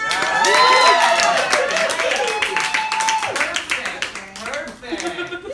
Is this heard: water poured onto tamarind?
no